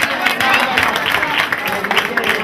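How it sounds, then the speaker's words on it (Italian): A crowd applauds a team representative at a Christmas gathering, a dense burst of clapping with some cheering voices mixed in, loud and close throughout. "Un applauso a Guerra."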